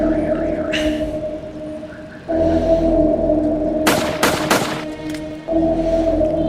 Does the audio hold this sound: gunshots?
yes